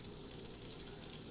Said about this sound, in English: so I'm gonna let the butter melt a little bit